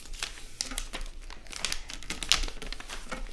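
Paper being folded for a paper airplane: close, crisp crinkling and creasing in irregular bursts, with a sharper crackle partway through and no talking.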